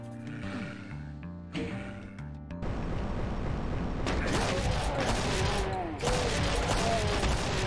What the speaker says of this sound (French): Ah, c'est un fusil à pompe automatique.